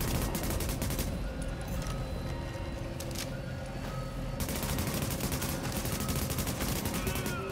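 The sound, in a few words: covering gunfire in video game The Division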